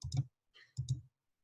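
A computer mouse is double-clicked while working in an Excel spreadsheet. Two quick pairs of crisp, close clicks come about a second apart, with a faint softer tick between them.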